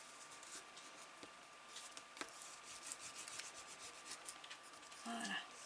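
Paper or card being creased along a fold for a handmade Harry Potter album, soft close rubbing and scratching strokes, with a brief sharper rustle near the end.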